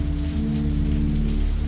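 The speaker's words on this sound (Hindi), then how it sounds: "बाहर से हल्की बारिश की आवाज आ रही है।" Steady light rain patters continuously outside in an animated horror scene, a soft even wash of drops with a low hum underneath and no voices.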